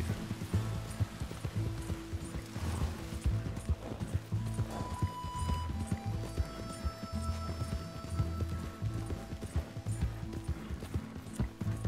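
Horse hooves clip-clop in a steady rhythm during a ride in the video game Red Dead Redemption 2, mixed with game music and ambient effects.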